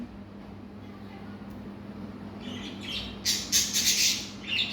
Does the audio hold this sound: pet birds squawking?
yes